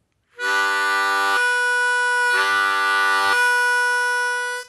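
Blues harmonica played with tongue blocking on draw notes in the low holes: two sustained, bright, reedy chords of about a second each, separated by a short gap, then a long held note. Played alone, fairly loud.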